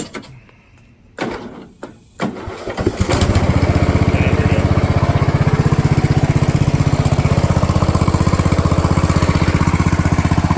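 The engine of a John Deere Z225 lawn tractor, newly fitted with a fuel pump, cranks after a few clunks, catches, and settles into a loud, steady, close running drone that lasts to the end.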